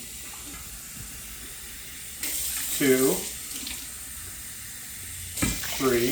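Running water splashes from a tap while making sourdough bread dough, with a brief voice counting over the flow.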